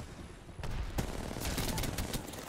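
Rapid gunfire bursts from the battle royale game Apex Legends during a competitive ALGS match, a fast volley of shots kicking in after a brief lull and running dense and loud to the end.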